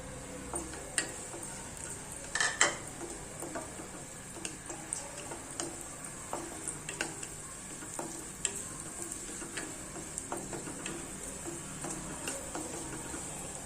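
Cashews roast in a pan for aval payasam, a soft continuous sizzle broken by frequent light ticking taps of a spoon stirring, with one louder scrape early on; nobody speaks.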